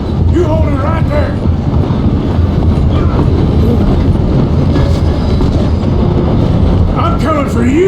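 A train in the Red Dead Redemption 2 video game rumbles along loudly and continuously, with rhythmic wheel clatter, occasional squeals and voices talking over the heavy rolling noise.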